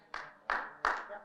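Three separate hand claps come from a church congregation during a sermon, sharp and evenly spaced, weak and sparse rather than a full round.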